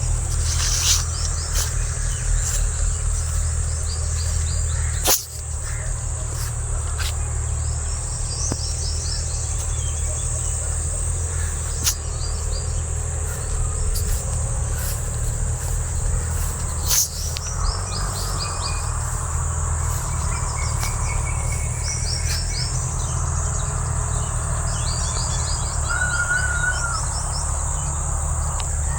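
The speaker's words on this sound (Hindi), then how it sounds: "कितना अच्छा लगता चिड़ियाँ की आवाज़ तो कोयल की आवाज़।" Morning birdsong in a village: sparrows chirp in scattered bursts with a koel calling now and then, set over a dense insect drone and low background rumble, steady and moderately distant throughout.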